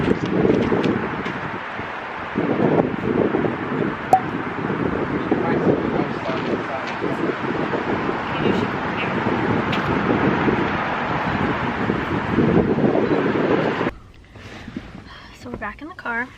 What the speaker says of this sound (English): It's super windy out.